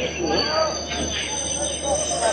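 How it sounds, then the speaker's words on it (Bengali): A DEMU train runs at Banihal station in Jammu and Kashmir, its wheels squealing in a steady, continuous high-pitched whine over a rumbling carriage roar, with crowd noise faintly under it. "এই হচ্ছে এখানকার ডেমু ট্রেন।"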